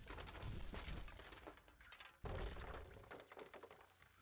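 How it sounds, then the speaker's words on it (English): Objects shatter in a physics-based video game remake of Bizango Blast: repeated breaking and crashing bursts of glassy debris and thuds, faint overall, with a sharp new impact midway. "And I added shattering to the objects."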